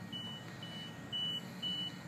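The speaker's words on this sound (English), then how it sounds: "since the alarm went off" Gas detector alarm sounding when readings pass 10 LEL at a lot on Bayou Corne, giving about four short, faint high-pitched beeps at a steady pace over a low background rumble.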